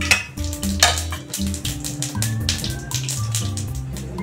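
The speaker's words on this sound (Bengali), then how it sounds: "দেখেন জিরে ফোড়ন দিয়ে দিলাম" Cumin seeds sizzle in hot oil alongside dried red chillies and bay leaves for a Bengali egg and fish curry, a steady close crackle over sustained tonal sounds in the background.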